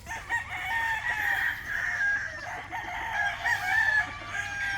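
Young roosters (stags) crow repeatedly in overlapping, drawn-out calls at mid distance, with a few clucks mixed in, continuing throughout without talk.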